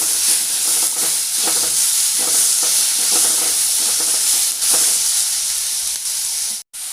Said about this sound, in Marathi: त्यामध्ये टोमॅटो घालायचं आणि हे छान असं परतून घ्यायचं